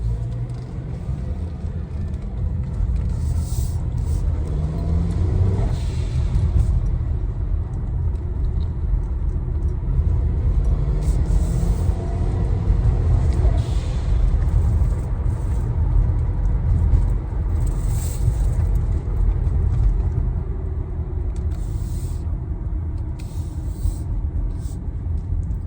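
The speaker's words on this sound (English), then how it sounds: "I think it's time to go for a test drive." Acura RDX fitted with a Turbosmart dual-port blow-off valve on the road, a steady loud engine and road rumble from inside the cabin throughout, with faint brief hiss-like bursts riding above it.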